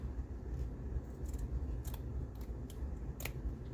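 Scissors cut through material for a soft journal cover, a series of quiet, close snips and crisp blade slides spaced over a few seconds against faint background hiss.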